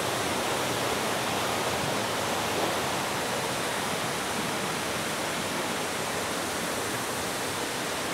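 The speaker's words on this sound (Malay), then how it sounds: "Air terjun." A waterfall along the Gunung Silipat hiking trail in Betong, a steady, dense, broadband roar of falling water that stays loud and unbroken throughout, with no voices over it.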